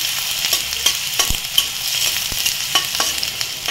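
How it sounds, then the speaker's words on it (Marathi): Three medium chopped onions sizzle and fry in hot oil in a home kitchen pan for pav bhaji, a steady close hiss broken by scattered stirring clacks, with no talking. "ते तेलावर टाकले परतून घेऊ."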